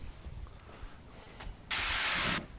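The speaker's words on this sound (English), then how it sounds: "get some spray on there" Cooking spray hisses onto the grates of a Royal Oak Embers grill in one steady, loud burst of under a second, following a quieter stretch of low background noise.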